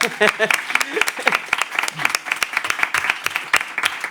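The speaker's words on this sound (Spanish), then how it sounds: "Así que pido un aplauso, Álvaro, por favor." A live audience at the Avalon claps at a podcast taping, scattered sharp handclaps with voices talking over them.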